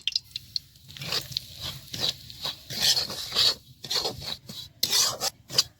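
Semolina being roasted and stirred in hot ghee in a pan, heard as dry, rasping scrapes of a spoon against the pan in uneven bursts, close and fairly quiet.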